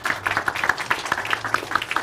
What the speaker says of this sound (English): Another round of applause for Peter.